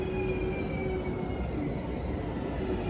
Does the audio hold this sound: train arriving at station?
yes